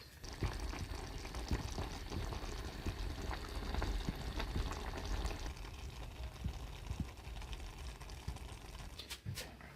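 Baked beans simmering in a pot on the stove, a steady low bubbling and faint sizzle running throughout with occasional small clinks near the end.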